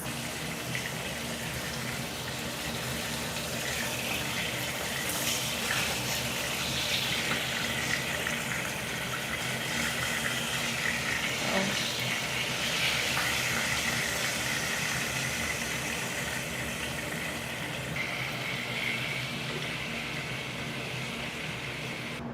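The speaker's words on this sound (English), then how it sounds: "Now let's fry the other piece of fish." Fish frying in a pan in a home kitchen gives a steady, even sizzle and hiss that runs unbroken throughout without pause.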